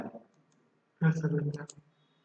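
A computer mouse clicks while someone works in MS Paint on Windows. Light clicks sit near a voice, which is talking over part of the stretch.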